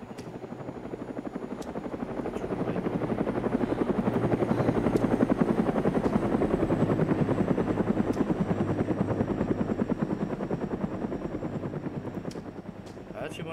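A helicopter in the video game DayZ gives a steady rapid rotor thump with a whirring drone, swelling louder midway and fading slightly toward the end, with a few faint clicks and voices in the background.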